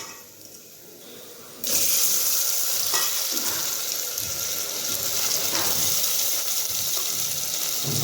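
Rice is tipped into a pan of ghee-fried cashews and raisins for pulao, starting with a sudden loud hiss that settles into a steady close sizzle with stirring scrapes.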